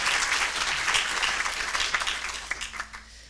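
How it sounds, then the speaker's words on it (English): Audience applause at the World Inequality Conference: a steady wash of many hands clapping in a hall, fairly soft and slightly distant, thinning out and fading toward the end. "A big round of applause."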